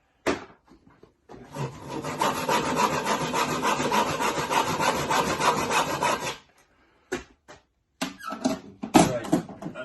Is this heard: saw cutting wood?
yes